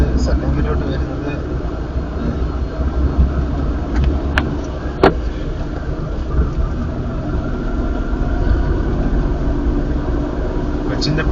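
Engine of a manual car on a driving lesson as the gear goes from first into second: a steady, close low rumble with road noise throughout, with voices talking over it.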